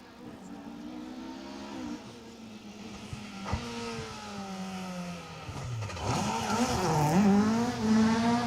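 A Peugeot 306 rally car on an asphalt stage of the Manx Rally, its engine revving hard through rising and falling gear pulls, growing louder as it passes close, with a brief tyre squeal under braking.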